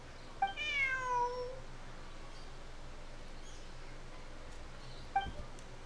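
Two short meows from a cat in the video game Genshin Impact, the first one drawn out and rising, the second brief and a few seconds later, clear against a quiet game background.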